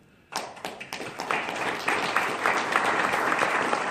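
A conference audience claps for an introduced speaker, starting with a few scattered near claps after a brief quiet, then swelling into full, steady applause that holds to the end.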